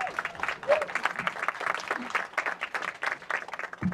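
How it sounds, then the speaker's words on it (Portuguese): Wedding guests clap and cheer steadily for the groom for about four seconds, a dense patter of many hands with voices mixed in throughout. "Palmas para ele, gente!"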